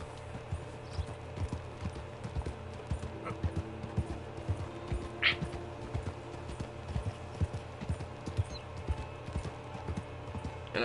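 A female horse in Red Dead Redemption II clip-clops along at a steady walking rhythm, its close, even hoofbeats running the whole time over quiet ambient game sound.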